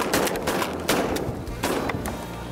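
Shotgun blasts at sea ducks on open water, distant and muffled: several overlapping shots in a short burst, heard through wind and water noise.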